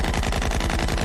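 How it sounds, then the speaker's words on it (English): Rapid gunfire aimed at a vehicle, a dense, steady burst of loud repeating shots filling the whole moment with no pause. "They're shooting at us."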